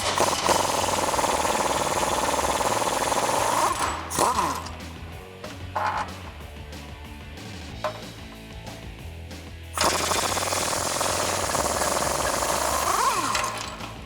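A power tool with a 15/16 socket removes large bolts from a 2014-2018 Silverado 1500 truck, giving a loud continuous rattling impact hammering. It pauses for several seconds of lighter clanks and ratcheting, then resumes at full intensity.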